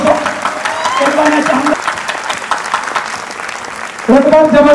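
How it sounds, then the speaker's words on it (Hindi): Sustained applause from a seminar audience at a network marketing event, a dense wash of clapping filling the room while a voice speaks over it at the start and again near the end. "समझने वाले जबरदस्त वाली क्लैपिंग बजाना दोस्तों"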